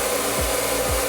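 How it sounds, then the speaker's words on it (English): Hair dryer blowing hair dry after hairspray, a steady loud close whoosh that holds without a break, with two brief low thumps as it moves. "and then dried it with the hairdryer."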